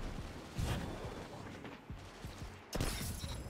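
Gunfire in Destiny 2, bursts of loud booming shots at irregular intervals with rumbling explosions between them, a dense firefight with no talking.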